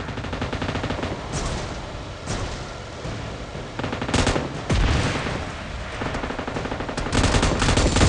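Rapid machine gun bursts ring out in PUBG Mobile, with dense, continuous gunfire across the whole stretch and a few sharper, heavier shots standing out, loud and close.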